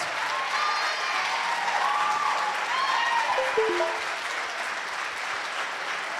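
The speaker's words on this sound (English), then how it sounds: "Give yourselves a round of applause." An audience at a live scholarship fundraiser gala applauds in a steady, sustained wash of clapping with a few cheers and whoops over it, loud and filling the room from start to finish.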